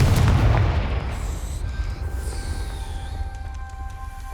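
A Confringo blasting curse exploding in Hogwarts Legacy, one loud close boom with a deep rumble that decays slowly over several seconds, followed by faint tonal magical ringing.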